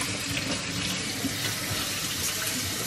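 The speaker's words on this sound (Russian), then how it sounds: "Сюда можно кипяток наливать?" Boiling water poured into a pot of washed rice fried with a little oil, a steady broadband splashing stream running continuously and close by, with no talk over it.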